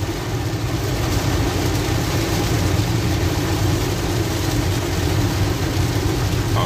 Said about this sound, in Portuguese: a chuva engrossou aqui o carro